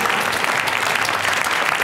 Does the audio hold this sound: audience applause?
yes